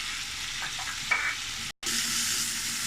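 Tomato and capsicum cubes stir-frying in a pan, a continuous low sizzle with a few soft scrapes and a brief dropout near the end.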